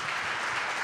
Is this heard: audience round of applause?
yes